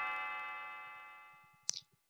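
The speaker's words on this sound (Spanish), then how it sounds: "Y suenan las campanas de nuevo" A bell in Chrono Trigger rings out as a resonant tone that slowly decays, followed by a sharp bright chime and a few soft rhythmic ticks near the end.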